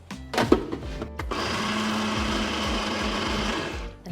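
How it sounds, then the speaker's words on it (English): A kitchen blender whirs steadily as it blends a protein mixture with low-fat milk, starting with a few clunks and then running at a loud, even pitch for several seconds before winding down. "then just whiz that up in the blender"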